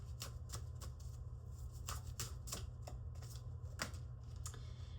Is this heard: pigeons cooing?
no